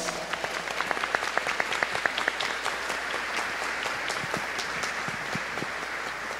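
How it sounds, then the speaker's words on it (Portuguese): Applause at a church plaque unveiling honoring a late bishop, many hands clapping with distinct sharp claps over a steady patter, continuous and moderately loud. "Uma salva de palmas."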